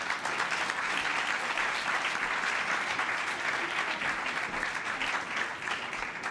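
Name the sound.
audience applause for the governors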